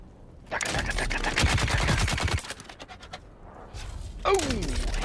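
Light machine gun firing in a video game, a long rapid burst of close, loud shots followed by shorter bursts and a whooshing sweep, with a voice speaking briefly underneath.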